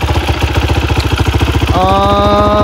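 A motorcycle idles close by with a rapid, even thumping beat; partway through, a steadier tonal whine rises over the pulsing engine.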